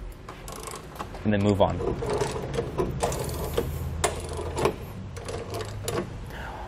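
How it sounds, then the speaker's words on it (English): A 13 millimeter socket and wrench tightening nerf bar bolts on a 2019 Toyota, producing quick ratcheting clicks in short bursts, close by, while someone talks over them. "Now we'll begin to tighten everything down using a 13 millimeter socket and wrench."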